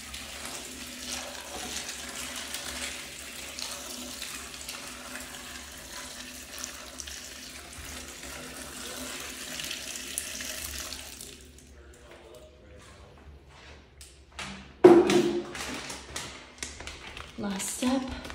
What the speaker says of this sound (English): Now, taking our hot water.